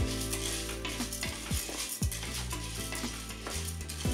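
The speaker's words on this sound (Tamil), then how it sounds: "இது கொஞ்சம் ஒரு நிமிஷம் நல்லா நம்ம வறுத்துக்கலாம் பட்டரில்." Corn kernels fry in melted butter in a pan, a continuous close sizzle broken by repeated stirring scrapes and light clinks of a utensil against the pan.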